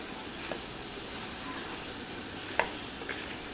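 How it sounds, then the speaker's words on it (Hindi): Chicken feet frying in a pan, giving a steady, soft sizzle throughout with a couple of brief clicks of stirring. "यहाँ पे हम इसको भून रहे हैं अच्छी तरह।"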